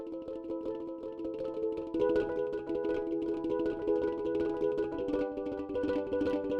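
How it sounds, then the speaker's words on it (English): A sampled hang drum from a free Kontakt library is played in continuous rolls, a sustained, shimmering metallic chord pulsing rapidly and steadily at moderate loudness with no other sounds. "You only get rolls on this hang drum,"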